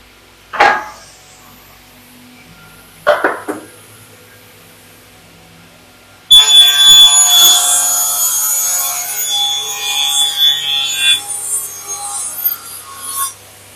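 A panel saw with a double blade slices through a high-gloss laminate panel, a loud continuous grinding cut running about seven seconds after two short bursts of blade noise, with no voices.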